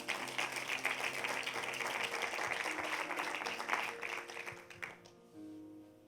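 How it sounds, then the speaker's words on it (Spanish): Congregation at an online church meeting applauding in response to a call for praise, faint, fairly dense clapping that carries on for several seconds before fading out, with a low background hum beneath it. "¿Cuántos pueden darle un aplauso y decir amén?"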